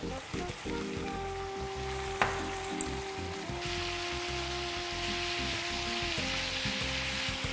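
Ostrich meat sears in a hot frying pan, a close, steady crackling sizzle with a few small pops, continuing without speech.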